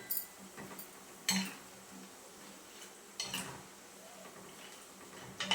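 A tin is set into a cooking vessel over a high flame, giving three separate metallic clinks and knocks spread a couple of seconds apart against a quiet background.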